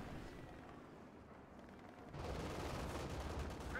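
Anti-tank guns firing on infantry in a WWII strategy video game, a dense burst of booming shots that gets louder partway through, with no speech over it.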